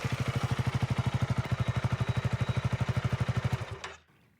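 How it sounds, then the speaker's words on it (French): A motorcycle engine runs with a fast, even pulsing thump for several seconds, then cuts off abruptly, leaving quiet. "il enfourche sa moto"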